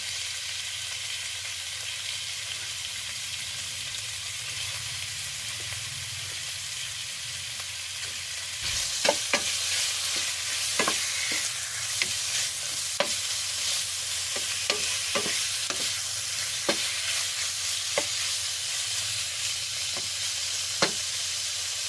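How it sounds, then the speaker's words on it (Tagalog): Pork frying in oil in a pan, a steady close sizzle that grows brighter partway through, with sharp scraping stir clicks from a utensil scattered over it and no talking. "Palabasin lang natin yung mantika dito. Tapos ilagay natin yung ating pork."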